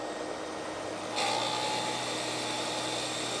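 A wood lathe trims the end of a pen blank in a workshop, a steady high whine and hiss that jumps louder partway through as the cutting tool engages, continuous and close.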